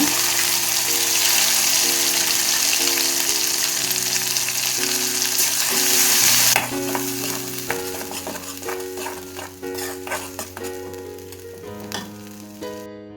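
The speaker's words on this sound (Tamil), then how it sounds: "அரைச்சி வச்சிருக்கிற இந்த தொக்கை போட்டுக்கலாங்க" Ground masala paste for egg gravy hits a hot pan with a loud, continuous sizzle, then settles into quieter frying with repeated scraping and stirring sounds.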